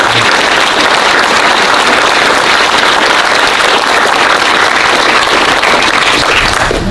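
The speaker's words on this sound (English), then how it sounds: "Let's give all of our honored recipients a big round of applause." A large crowd applauds award recipients at a Delta Champions Awards ceremony held at Grand Island Vineyards in Walnut Grove, California, producing a dense, loud, steady wash of clapping that fills the whole stretch with no voices over it.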